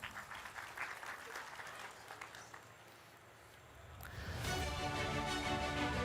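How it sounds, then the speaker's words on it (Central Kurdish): Audience at a school awards ceremony clapping for a teacher, a moderate patter of applause that eases off midway, then a louder steady wash of sound builds toward the end. "چەپڵەیەک بۆ مامۆستا یەڵماس"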